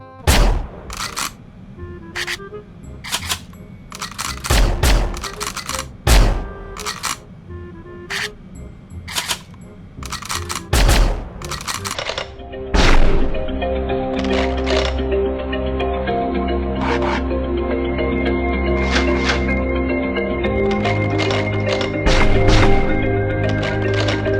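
A TRG sniper rifle in the online shooter Sudden Attack fires a string of sharp, loud single shots with reload clicks between them, followed by a steady, denser stretch of game sound with no talking.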